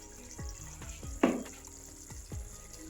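Spice masala for a mustard-based fish curry fries in a pan, with a quiet low crackle and several soft scraping strokes of a spoon, plus one sharper sizzling burst partway through, close but faint, no talking.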